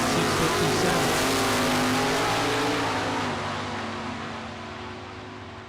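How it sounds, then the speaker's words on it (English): Drag race cars, a Mopar and an '87 Buick Regal, roar down the strip at a Super Pro bracket event, a loud sustained engine drone that fades gradually as they pull away. "And it's the Mopar taking the win as Parquet broke out"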